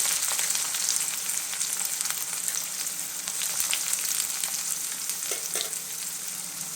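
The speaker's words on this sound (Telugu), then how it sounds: "ఆయిల్ మరిగిపోయింది ఇందులో ఫస్ట్ ఉల్లిపాయలు వేసుకోవాలి" Chopped onions sizzle in hot oil in a pan, a steady dense crackling frying sound that stays loud throughout with a few brief clinks near the end.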